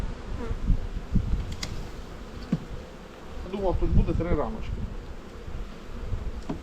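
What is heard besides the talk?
bees buzzing around hive frames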